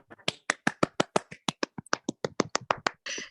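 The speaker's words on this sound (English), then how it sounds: "applause." A small audience applauds after a youth orchestra recital, with sparse, distinct claps from only a few hands ringing out one by one in an uneven rhythm before a brief burst of noise at the end.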